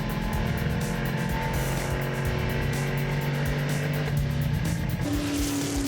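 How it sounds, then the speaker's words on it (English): Ford Mustang GT race car engine at full throttle on a circuit, a loud, steady, dense roar with shifting pitch as it drives sideways out of a corner. "putting the power of the Ford Mustang GT down and gets a bit sideways on the exit of the corner"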